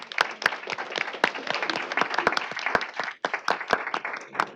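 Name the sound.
applause for presenters at board meeting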